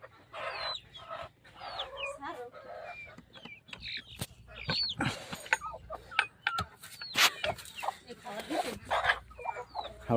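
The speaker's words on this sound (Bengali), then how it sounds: "এই যে দেখেন এখানে উপরে অল্প কটা মুরগি আছে" Desi chickens give a busy series of irregular clucks and short squawks, near and lively, with brief gaps between calls. A person speaks now and then among them.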